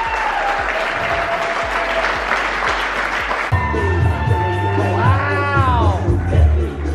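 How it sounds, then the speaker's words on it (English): Wedding guests break into a round of applause and cheering, loud and dense at first, then the clapping gives way to whoops and lively crowd chatter near the end. "Just give everybody a round of applause."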